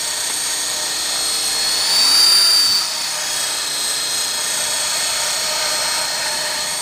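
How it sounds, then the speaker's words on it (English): Steady broadband wind noise roars across the whole clip, swelling briefly louder near the middle, with a faint high whine from a nearby motor or aircraft riding over it; no one speaks. "Yeah, gotta wait for this wind."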